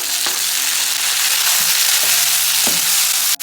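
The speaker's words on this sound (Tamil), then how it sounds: "வெங்காயம் வந்து கண்ணாடி மாதிரி ஆகிற வரைக்கும் நல்லா வதக்கிக்கலாம்" Onions sautéing in a pan for chutney, with tomatoes and chillies also in it, giving a loud, steady sizzle with occasional soft clicks and stirring knocks throughout and no voices.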